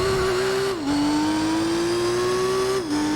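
A race car in Gran Turismo 4 pulls out of the pit lane with a loud, sustained engine whine that climbs through the gears, dropping in pitch at each of two quick upshifts, close and steady.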